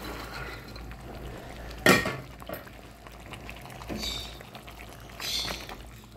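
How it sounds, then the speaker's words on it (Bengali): Boiled split chickpea dal is poured into a pot of chicken curry with bottle gourd, giving one sharp splash and a brief burst of liquid, then a few softer pouring and pot sounds over quiet kitchen background. "এখন এখানে আমি ডাল দিয়ে দিব, সিদ্ধ করার যে ডালটা আসছে ডালটা দিয়ে দিব।"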